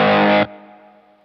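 A loud, heavily distorted guitar chord rings out through a Phenyx Pro PTG-11 wireless guitar unit, then is abruptly cut off, leaving a quieter sustained tone fading away.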